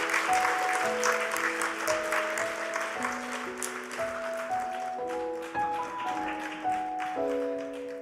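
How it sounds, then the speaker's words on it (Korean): A church congregation applauds graduates at a Sunday evening service, with scattered clapping running throughout while sustained organ or keyboard notes play over it, moderately distant. "큰 박수 부탁드립니다."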